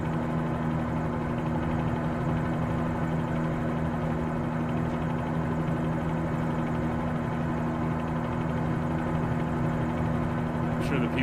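A Bell 47G helicopter in a flight simulator game flies through bad weather, its engine and rotor giving a steady, unbroken droning hum at even loudness.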